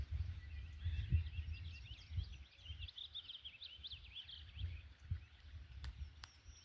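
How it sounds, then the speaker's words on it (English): Birds calling in the woods around dawn, a rapid run of chirping song carried faintly over a low rumbling background, with a couple of sharp distant taps near the end. "I hear woodpeckers."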